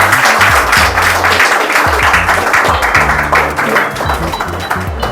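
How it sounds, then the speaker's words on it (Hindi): A crowd claps loudly to welcome guests onto a stage, with thick, continuous applause and some low thumps running beneath it throughout. "निवेदन करती हूँ जोरदार तालियों से कीजिए"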